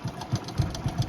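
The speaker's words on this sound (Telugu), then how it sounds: "బైక్ స్టార్ట్ చేస్తున్నాం." A motorcycle engine running at idle on a Hyderabad street, a close, steady low putter with evenly spaced thumping pulses, no voices.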